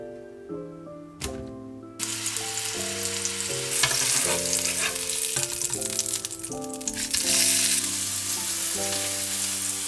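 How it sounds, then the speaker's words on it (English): A burger patty sizzling in a hot pan, a continuous loud frying hiss that flares up after the first couple of seconds, with music playing over it throughout. "Just heat the pan up, let it get hot a little bit. I'm gonna dump this burger in."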